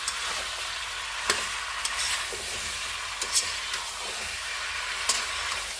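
Goat meat with chunks of kohlrabi and potatoes frying in a pan, with a steady close sizzle and occasional scraping stir strokes every second or so, no voices.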